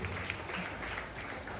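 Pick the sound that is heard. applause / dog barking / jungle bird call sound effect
applause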